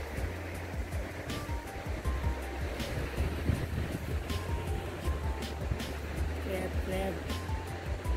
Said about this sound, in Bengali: এই হলো বকখালি সমুদ্র।